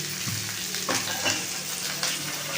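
Onions fry in a pan with a steady close sizzle and crackle, and soft clinks and scrapes from stirring break in now and then.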